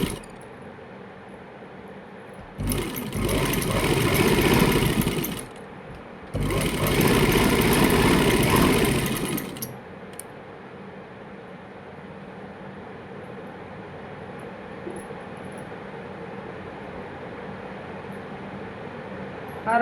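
A sewing machine stitches an umbrella-cut kurti in two sustained runs of fast, even whirring, each a few seconds long with a short pause between, then stops and leaves a quiet room.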